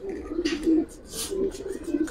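A male pigeon coos softly and repeatedly, low throaty notes rising and falling, with a few faint rustles in between.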